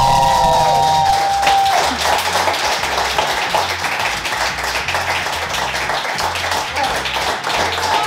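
Cheering and clapping from a crowd at a Smoke Stop BBQ eating challenge for a giant two-foot cheesy hot dog, steady and fairly loud, with a brief high whistle or cheer near the start and dense rattling applause throughout.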